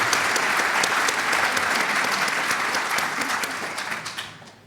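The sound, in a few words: audience applause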